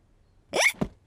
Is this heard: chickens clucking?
no